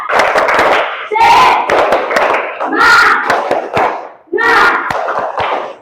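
A standing group performs a rhythmic clap-and-shout ice breaker chant in a classroom, with bursts of sharp, close claps punctuated by loud collective shouts in several repeated phrases.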